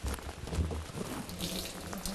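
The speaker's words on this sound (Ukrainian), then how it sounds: "просто відкриваєте кран і набираєте собі гарячої ванни" Hot water pours steadily from a tap into an outdoor bathtub at a rustic Carpathian hut, a continuous close splashing rush with no pause.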